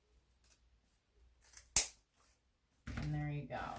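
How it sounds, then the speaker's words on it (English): Scissors make a single sharp snip as they cut off the tail of a glued ribbon on a disc styrofoam centerpiece, heard close and alone after faint rustling, with a voice speaking just afterward. "And this tail, we'll cut that off a little bit."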